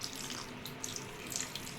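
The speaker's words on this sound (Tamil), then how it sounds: "இப்போ தண்ணி கொஞ்சம் ஊற்றிக்கிறோம்." Water is poured into a roadside street-food kalan mixture of cornflour batter and broken pakoda pieces, a short, steady trickle and splash heard up close with no talking.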